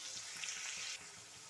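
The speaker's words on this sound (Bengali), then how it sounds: "আলু দেওয়ার পর দিয়ে দেবো অল্প একটু নুন, আর দেবো অল্প একটু হলুদ, দিয়ে লাল লাল করে আলুগুলো ভেজে নেব" Potatoes fry in a pan with a little salt and turmeric, a soft steady sizzle that stays quiet and close, easing off slightly partway through.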